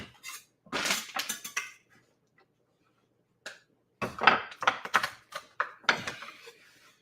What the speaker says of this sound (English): the reason I like crushing the garlic first before chopping